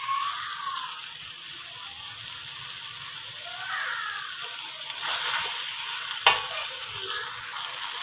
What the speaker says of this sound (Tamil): இது போட்டு கொஞ்சம் கொதிக்கட்டும்.